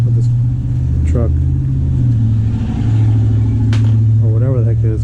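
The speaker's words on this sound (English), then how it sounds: "the neighbor's making so much noise back there with this truck" A truck engine idles and revs steadily in the background, a low continuous rumble, while a person talks over it nearby.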